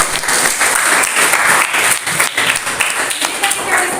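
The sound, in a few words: classroom applause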